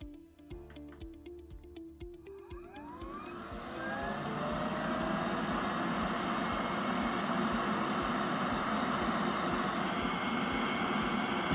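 BioFlyte BioCapture z750 air sampler starting up at its 200 litre-per-minute flow rate: a few seconds of electronic beeping and tones, then a rising whoosh that settles into a steady, loud, close airflow hiss.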